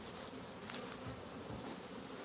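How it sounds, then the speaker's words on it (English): Honeybees buzz steadily around a hive in a dense, continuous drone with no talking, their wings forming a close, even hum throughout. "Got a bunch of bees flying."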